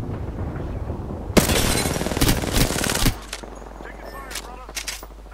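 Rapid automatic gunfire bursts loud and close in a shooter game, a dense volley lasting about two seconds followed by a few scattered shots and quieter game sounds.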